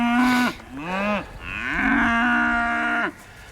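Cattle moo nearby, a cow and her calf calling in turn with several long, loud lowing calls of varying pitch, no voices over them.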